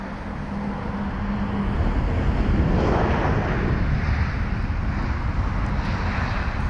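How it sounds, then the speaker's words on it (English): A British Airways Airbus A320ceo with retrofitted winglets and a oneworld sticker lands at London Heathrow, a loud continuous roar of jet engines and rushing air that swells near the middle, then holds steady. "Now here's the A320 with the One World special sticker on board."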